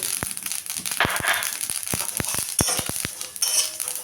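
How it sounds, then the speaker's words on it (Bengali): Poppy seeds and sesame dry-roast in a pan with scattered sharp pops and crackles over a soft sizzle. The pops come irregularly and close up, with no talking. "তিল ভাজা হয়ে গেছে এখন দিয়ে দিলাম পোস্ত"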